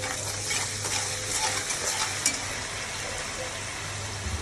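Onions softening with a pinch of salt sizzle steadily in a pan, a continuous bright frying hiss with faint scraping of stirring throughout, close and even with no clear pauses.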